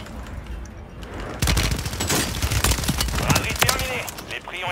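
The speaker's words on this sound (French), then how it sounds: "Ça me tire dessus." Rapid bursts of gunfire from the Call of Duty Warzone video game, dense overlapping shots with booming impacts that grow louder after the first second and continue throughout.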